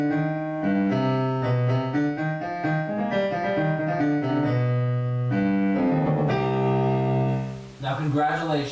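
A section of the Shin Gojira theme played on piano, a steady run of close, loud melodic notes and chords for several seconds, ending in a few quieter wavering tones, with no talking.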